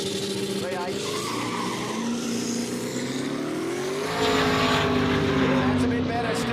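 A V8 drag racing car, a Falcon at a street drag event, revs and accelerates with a rising engine whine that swells louder midway, under race commentary.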